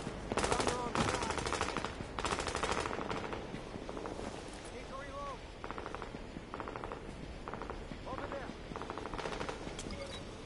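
Rapid automatic gunfire bursts in The Division's Dark Zone, repeated volleys with short gaps across the clip, loud and close, with game voices and effects in the mix.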